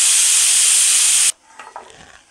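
A pressure cooker whistles with a loud, steady hiss of escaping steam that cuts off abruptly, leaving faint kitchen clatter.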